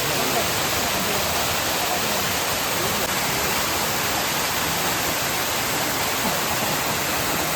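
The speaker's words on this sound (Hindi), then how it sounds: "आप भी इस खूबसूरत वाटरफॉल का आनंद लीजिए।" A waterfall near Vattavada in Munnar roars with loud, steady, unbroken rushing water, close by and without pause.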